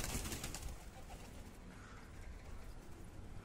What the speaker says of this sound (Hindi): वो देखो भाई, वो कबूतर भी आ गया